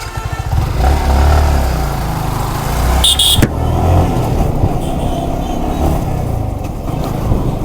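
A motorcycle revs hard for a wheelie, its engine roaring loud and close throughout with a sharper rev spike partway through.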